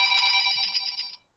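A telephone rings once during an online webinar, a bright electronic trill lasting about a second before it cuts off, close and clear with no voices.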